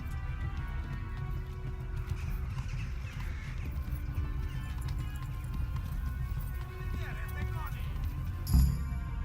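In the video game Kingdom Come: Deliverance, steady rhythmic hoofbeats of a galloping horse run throughout over a low rumble, with a brief sharp thump near the end.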